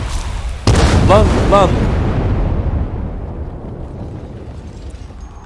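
A land mine goes off in Dying Light 2: one sudden loud boom followed by a long, slowly fading rumble, while a voice shouts during the blast.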